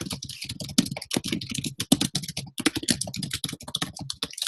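Rapid close clicking of keys on a computer keyboard, a dense uneven patter of keystrokes with short pauses, no talking.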